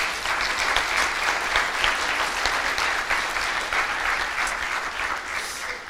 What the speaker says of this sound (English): could you, the students and learners, please give a big round of applause to your staff and your teachers